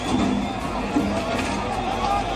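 An agitated crowd chants slogans while vandalizing a house in Bangladesh, a dense, continuous roar of many voices with shouting and babble rising and falling throughout.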